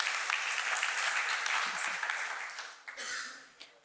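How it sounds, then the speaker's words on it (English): Audience applause rises for Laura as she takes the stage at an industry conference, a steady dense wash of clapping that holds for a few seconds and then thins out near the end. "A round of applause to Laura on stage."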